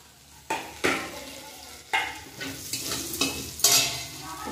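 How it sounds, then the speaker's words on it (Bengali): Prawns fry in hot oil in a pan, a steady sizzle broken by several sharp stirring scrapes and clatters, close and loud, for a village-style prawn and cucumber curry. "চিংড়ি মাছ বেশি ভাজতে নাই, চিংড়ি মাছ বেশি ভাজলে সব করে দেয়।"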